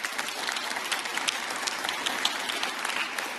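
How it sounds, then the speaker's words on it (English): A jazz festival audience gives sustained applause, dense and even clapping from many hands at moderate distance, with no break and no speech over it. "So give them a round of applause"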